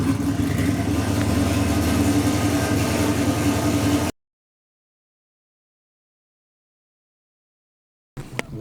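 A car engine runs loud and close with a steady, rough mechanical drone for about four seconds, then a long silence follows before a short burst of noise at the end.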